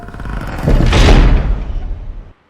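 A heavy wooden church door swings and thuds in an animated horror story, a single loud, broad creak-and-slam swelling up close before cutting off abruptly.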